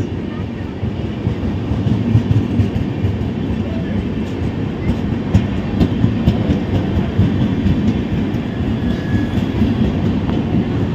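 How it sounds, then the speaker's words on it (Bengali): The Ranchi Shatabdi Express rumbles loudly and continuously into platform 2 of an Indian Railways station, its wheels rolling and clattering close by, with faint voices in the background. "ঢুকে গেছে রাঁচি শতাব্দী এক্সপ্রেস এই মুহূর্তে আপনাদের সামনে।"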